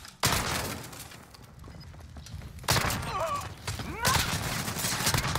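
Shotgun blasts from an R9-0 in a Modern Warfare Search and Destroy match, fired through a wall. Several loud, close bursts sound in rapid succession amid game noise, with brief voice sounds between them.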